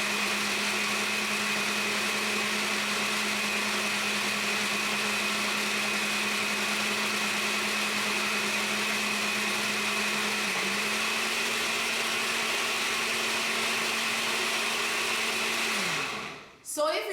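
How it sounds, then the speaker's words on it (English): A blender grinds split peas with a little water, a loud, steady motor whine holding pitch for a long stretch before dipping and cutting off near the end, with no speech over it. "why are you making so much noise with this blender? I'm blending split pea because we're making Pholourie today"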